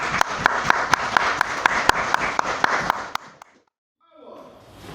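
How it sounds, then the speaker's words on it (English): Audience applause for a dance group at a recognition service, a steady run of sharp claps for about three seconds that then stops dead, leaving silence before faint room sound returns. "Encourage them with a round of applause."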